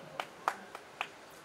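A few isolated hand claps, about four sharp separate smacks spaced unevenly, faint and close, at an event for the film The Diary of West Bengal, with no talk over them.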